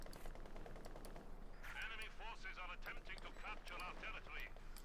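Machine gun fire in the World War II strategy video game Company of Heroes 2, a steady, distant rattling stream under a commentator's continuous speech, with whistling, chirping effects layered on top.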